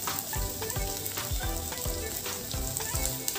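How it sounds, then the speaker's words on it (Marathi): Two roughly chopped medium onions fry in hot oil over a medium flame, producing a loud steady sizzle with rhythmic scraping stirs, close up and free of talk. "तेलामध्ये आपल्याला हे कांदे व्यवस्थित फ्राय करून घ्यायचे आहे"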